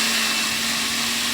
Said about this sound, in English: once everything is combined in the blender, you're going to blend this for like 2 or 3 minutes